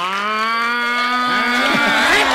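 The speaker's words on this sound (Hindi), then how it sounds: "फैमिली शो में आपने भैंस की गाली दे दी" A buffalo lets out one long, loud, close moo that holds a steady low pitch and then wavers toward the end.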